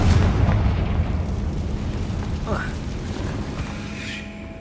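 A Confringo blast spell explodes in Hogwarts Legacy inside a cave, a loud booming burst at the start that settles into a rumbling, decaying roar with faint game effects after.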